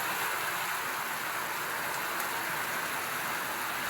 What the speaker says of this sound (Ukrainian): Оце пішов дощик.